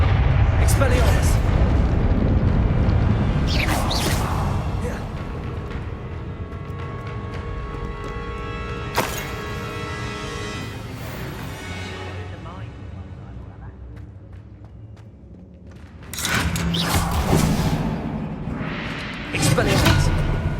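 Booming, explosive spell bursts from the Hogwarts Legacy video game on PS5, loud blasts at the start and again near the end with a sharp crack in the middle, set over a steady hum of game ambience and music.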